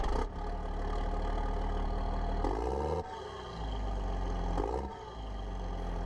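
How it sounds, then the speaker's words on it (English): A JCB machine in Farming Simulator 17 cranks and its engine roars to life, a loud, deep, continuous diesel drone with revving surges and brief dips as the throttle changes, heard alone. "Wow, look at that for an engine sound."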